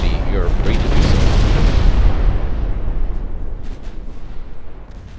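Battleship main guns firing in the naval strategy game Ultimate Admiral Dreadnoughts, a loud rumbling boom that swells and rolls on for several seconds before slowly fading, with a voice talking over it.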